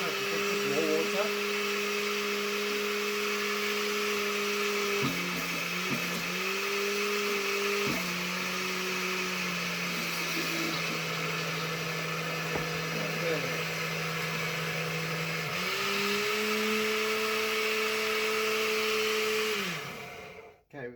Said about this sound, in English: Let's blend that.